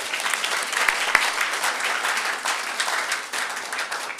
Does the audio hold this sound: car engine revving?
no